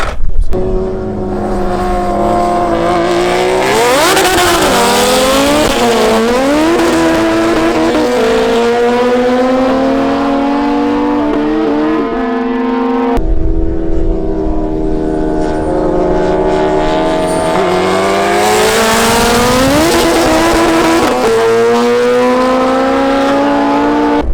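A tuned Suzuki Hayabusa drag bike launches in a drag race against a MotoGP bike and a Rimac hypercar, engine screaming loud and close through rising gear-by-gear sweeps, with a brief break before a second hard run.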